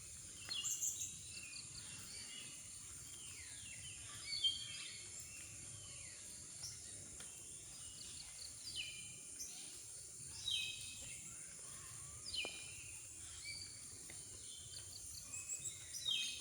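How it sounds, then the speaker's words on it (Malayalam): Forest birds near Athirappilly on the Kalady plantation road chirp and call on and off, with short scattered phrases over a steady insect hum, soft and fairly distant with no voices. "കിളികളുടെ ശബ്ദം മാത്രം കേൾക്കാം."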